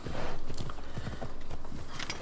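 Rhythmic clip-clop of horse hooves as a mount is ridden at a steady pace in the video game Assassin's Creed Odyssey, close and continuous with no talk over it.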